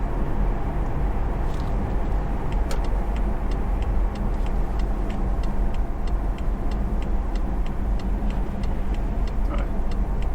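A 2013 Alpina B7 cruising in sport mode on a curvy road, with steady, loud engine and road roar inside the cabin and faint regular ticking throughout, no talk.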